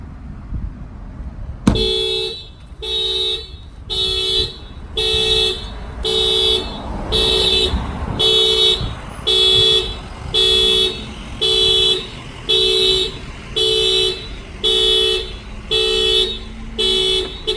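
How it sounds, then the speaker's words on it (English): A 2016 Honda Accord car alarm blares in a steady repeating pulse of loud tones, starting abruptly after a sharp bang on the window and cycling on and off continuously. "somebody walks up and they bang on the window, the alarm will fire off"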